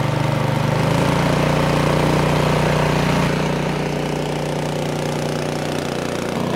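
A Craftsman snowblower's small gasoline engine runs at a steady idle, then its pitch shifts as the throttle changes, a constant loud mechanical drone heard alone without talk.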